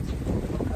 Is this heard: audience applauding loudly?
no